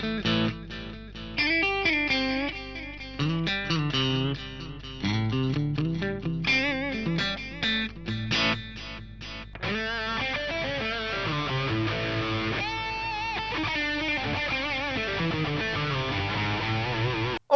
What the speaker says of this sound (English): I think it's on a ping pong delay.